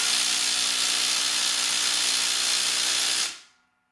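A Parkside Performance brushless impact driver drives a screw, a steady high whirring hiss for about three seconds before it cuts off sharply, close and alone.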